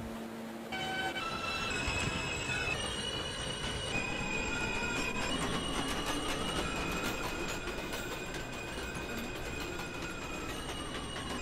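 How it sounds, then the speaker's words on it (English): A New York City Q Express subway train bound for 96th Street–2nd Avenue runs steadily and loudly, with continuous rumbling, high-pitched wheel squeal and rail clatter throughout, and no talking. "This is a 96th Street, 2nd Avenue bound Q Express train."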